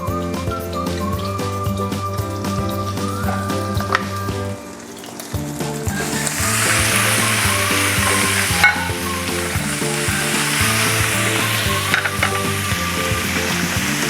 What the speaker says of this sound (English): Next thing we're going to do is we're going to add in our beef.